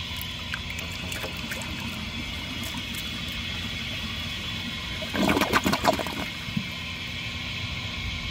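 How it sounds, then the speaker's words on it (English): A 1991 Kohler San Raphael toilet flushes up close, a steady watery rush with a brief louder surge of gurgling near the end, no voices. "So I'm gonna flush it again and let it fill the bowl up"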